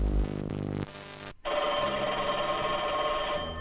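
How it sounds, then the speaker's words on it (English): A telephone rings in steady bursts, loud and close, with the first ring giving way to a brighter electronic tone that holds continuously to the end, no voices over it. "Okay, this is a phone call."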